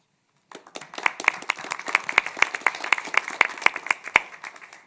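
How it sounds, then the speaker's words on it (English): A board of trustees applauds at a university meeting, a small group clapping with sharp, distinct claps that start abruptly and hold a steady, uneven patter for several seconds, fairly close and with no talk over it. "We clap before you're elected"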